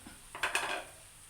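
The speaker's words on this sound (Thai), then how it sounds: "คนกระทะใหญ่ไปคนกระทะใหญ่ไปพี่น้อง" A utensil scrapes and clatters against a large wok as food is stirred during home cooking, a few quick close metallic knocks and scrapes bunched together in a brief burst.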